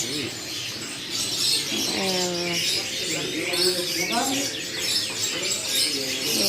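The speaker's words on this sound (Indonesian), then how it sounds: "Burung kenari." A canary sings amid the clamour of Pramuka bird market, thin trills and chirps rising over crowded background noise and nearby talking.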